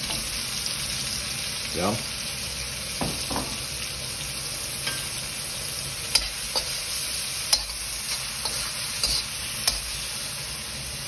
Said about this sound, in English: So let's put in the crayfish.